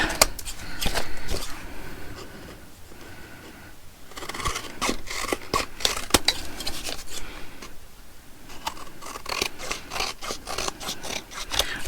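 Scissors or a blade trim excess material off stitched junk-journal bags, using a frame edge as a guide, producing continuous close scraping and rasping cuts with brief pauses and no talking.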